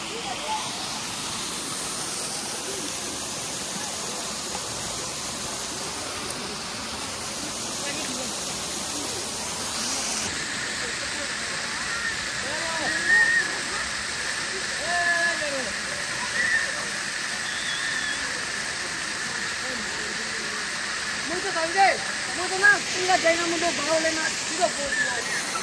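A waterfall near Shokhuvi village pours with a steady, dense rushing hiss that fills the whole stretch, loud and close, while people talk quietly beneath it.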